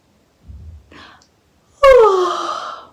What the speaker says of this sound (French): il se mit à bâiller